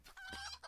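A brief cluck from chickens in a video game, one short faint burst of bird calls.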